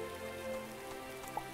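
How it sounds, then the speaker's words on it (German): Rain falls steadily in the video game Starbound, a soft, even patter holding at low volume throughout the short stretch with no voices. "hier regnet es ja noch"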